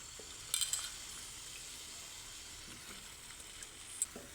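Potatoes and capsicum tipped into a hot pan of oil for a capsicum aloo gravy, giving a soft steady sizzle with a few sharp clinks of a spatula or spoon against the pan while stirring.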